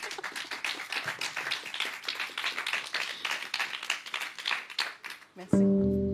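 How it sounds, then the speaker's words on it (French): Lively applause from an audience for musicians at an intimate living-room concert, brisk continuous clapping close by that fades out, followed by a sudden sustained tonal note as the music starts. "Allez, on les applaudit."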